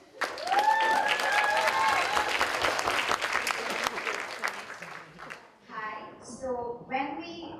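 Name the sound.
audience applause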